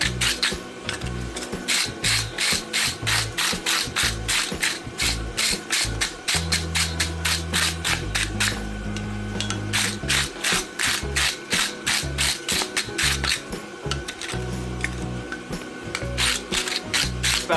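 A practice horseshoe for a blacksmith competition is scrubbed with a worn brush, giving continuous rapid rasping strokes, close and fairly loud, with some low rumbling underneath.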